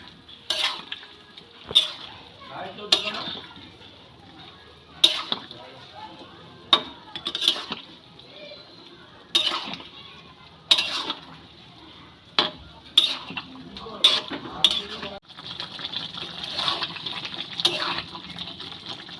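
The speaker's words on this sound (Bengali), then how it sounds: "এই ভেজে রাখা সোয়াবিনগুলো দিয়ে দেব সোয়াবিনগুলো দিয়ে খুব ভালো করে নেড়ে চেড়ে মিশিয়ে নেবো" Fried soybean chunks being stirred into a simmering gravy for chilli soybean, with repeated clattering spoon-on-pan strokes over a soft bubbling sizzle, close and intermittent.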